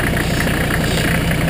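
A Mercedes 300TD diesel converted to run on vegetable oil idles close by, giving a steady, even clatter with a low rhythmic throb and no other sounds.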